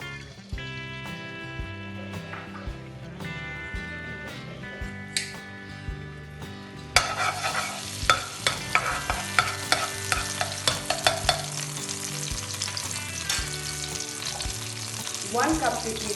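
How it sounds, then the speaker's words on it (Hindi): Ginger garlic paste hitting hot oil in a pan: a quiet stirring scrape first, then a sudden loud sizzle that bursts up and continues steadily with rhythmic spatula scrapes, close up, with no talking. "ऑयल गर्म होने के बाद 2 टेबलस्पून अदरक लहसुन का पेस्ट"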